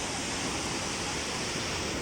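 Continuous broadband rushing of flowing water, steady and fairly loud with no pauses.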